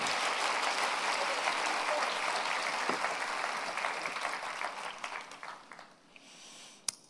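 A church congregation at a Sunday devotional service applauds, a dense, fairly distant clatter of many hands that holds steady and then gradually thins and fades out, leaving a quiet tail.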